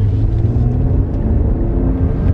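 Tuned BMW F10 535i with a JB4 tune pulling hard, a loud, steady low engine rumble and drone close up that holds strong throughout with no talk.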